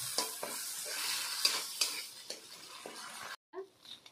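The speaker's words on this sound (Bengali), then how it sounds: "দিয়ে অল্প পরিমাণ জল দিয়ে মশলাটা ভালোভাবে কষিয়ে নেব" Chili and turmeric spice paste, loosened with a splash of water, fries in a pan with a steady sizzle, punctuated by several scraping stirs of a spoon, then briefly cutting out before a few faint clinks.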